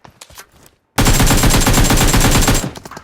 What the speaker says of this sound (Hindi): मेरे को फायर देखो वहाँ पिस्टल चल रहा है।